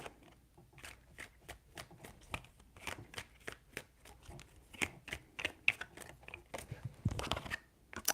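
Tarot cards are shuffled by hand in a rapid series of crisp riffles and slaps, close and fairly quiet, with no talking.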